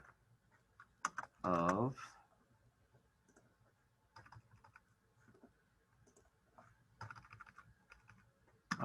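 Typing on a computer keyboard while building a Thunkable app: a few brief bursts of clicky keystrokes separated by pauses, fairly quiet, with a short loud sound near the start and light speech in the room.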